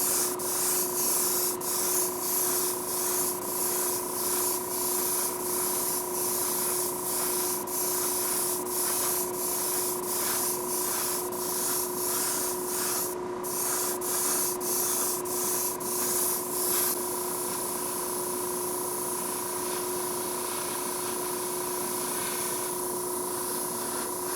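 Spray paint hisses steadily in short, evenly spaced pulses as a first coat goes onto a Hot Wheels '66 Nova, close and continuous, ending in a softer, unbroken hiss.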